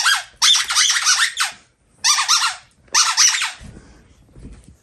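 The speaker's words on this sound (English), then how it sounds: "A new squeaky toy?" A dog's new squeaky toy squeaks in three quick bursts of rapid, shrill squeals close by, each lasting about a second, with brief gaps and a low rustle at the end.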